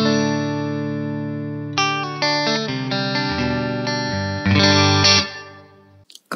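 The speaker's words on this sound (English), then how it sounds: "that's what your guitar would sound like in a cave" A distorted electric guitar plays sustained chords through a Poly Effects Beebo pedal's cave convolution reverb, ringing out with a long, cavernous reverb tail, loud and alone, fading away at the end.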